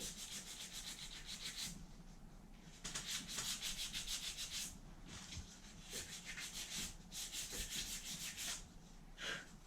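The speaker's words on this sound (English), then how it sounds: "200 grit fine sandpaper." Hand sanding of a garden yard statue with 200 grit fine sandpaper, steady rhythmic back-and-forth rasping strokes, close and continuous, with brief pauses between bursts.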